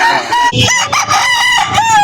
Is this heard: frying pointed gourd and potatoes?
no